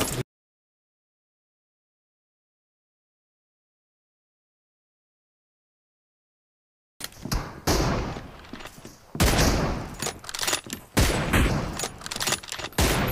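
Bursts of AR and M24 rifle gunfire in PUBG Mobile, loud and dense from about seven seconds on, with repeated sharp shots after a long stretch of silence.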